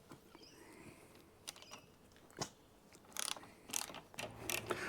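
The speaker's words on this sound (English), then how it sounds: "So socket set into there and remove that." Socket ratchet working a 15 mm locking nut off a Mercury outboard during water pump impeller replacement, with close, quiet clicking pawl bursts in short runs separated by pauses and a few metallic taps, without speech.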